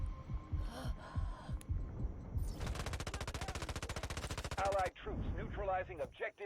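SMG-45 submachine gun fire in the mobile shooter Delta Force Mobile, a long rapid automatic burst of evenly spaced shots lasting about two seconds, with scattered single shots before it and game effects and voices around it.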